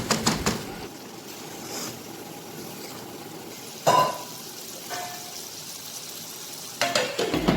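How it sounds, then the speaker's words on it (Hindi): Fried okra and onions tipped into a pan of masala and stirred, giving a soft sizzle with a few sharp scraping and clattering bursts of the spoon against the pan, otherwise fairly quiet between stirs. "अब मैं इसमें फ्राई की हुई भिंडियाँ और प्याज डालूँगी। इसे अच्छी तरह मिक्स करें"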